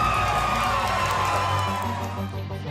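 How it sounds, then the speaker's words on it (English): A watch-party crowd in Flint cheers for an Olympic boxer in a gold medal bout, a loud blended roar of voices and whoops with music-like tones underneath, easing slightly toward the end. "everybody just there cheering for her"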